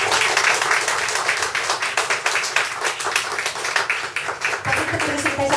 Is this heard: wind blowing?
no